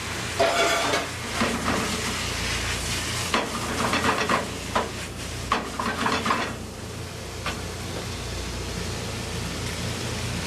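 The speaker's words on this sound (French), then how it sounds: "Je vais prendre un petit peu d'eau de mes pâtes, juste pour déglacer un petit peu mes pâtes." Pasta in a hot pan hisses and sizzles steadily as a splash of its cooking water goes in to deglaze, with scattered utensil scrapes and clinks over the broadband frying noise, close up and no talking.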